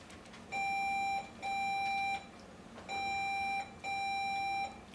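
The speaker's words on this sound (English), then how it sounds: "And let's do a buzzer check." Four quizbowl electronic buzzer beeps, each a steady tone lasting under a second, sounded one after another with short gaps over faint background hiss.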